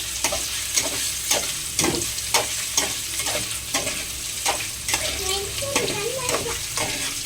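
Ingredients for paneer biryani fry in a pan, with a steady sizzle broken by rhythmic stirring strokes, close up, and a voice occasionally heard beneath.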